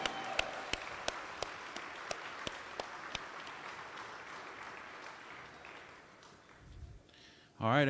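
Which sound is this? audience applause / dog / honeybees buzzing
audience applause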